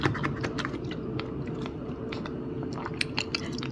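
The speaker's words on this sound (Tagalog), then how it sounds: "Ngayon ko lang po susubukan tong pineapple." Pineapple being chewed close to the mouth, a continuous run of moist crunches and small wet bites over a low room murmur, with no talking.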